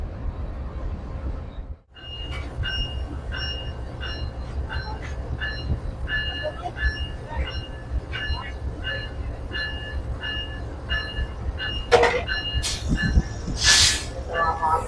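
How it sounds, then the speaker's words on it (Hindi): A Pakistan Railway GU 4904 locomotive arrives at a station. Its low diesel rumble drones steadily, with hissing and squealing wheels, and brief station noises and voices are heard in the background. "7 अप तेज़गाम को ले जाने के लिए GU 4904 पहुंच चुका है।"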